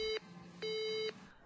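Two electronic beeps of a telephone disconnected tone in a Shin Chan cartoon, each a steady pure tone lasting about half a second, separated by a short gap, clear and alone with no talking.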